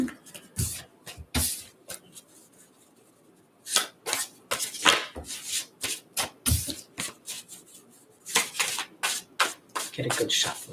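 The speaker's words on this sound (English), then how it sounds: "Get a good shuffle in here." A deck of tarot cards is shuffled by hand in repeated quick bursts of riffling and sliding, close and fairly loud, with short pauses between bursts.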